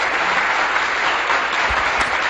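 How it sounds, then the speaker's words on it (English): Steady applause fills the whole stretch, a dense even patter of many hands clapping at once, close and fairly loud, with no voices over it. "Please give me a hand of applause."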